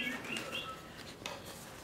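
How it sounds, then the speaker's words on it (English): Birds sing in a garden, with soft, scattered chirps and a brief flutter over a faint background hum. "The birds are singing."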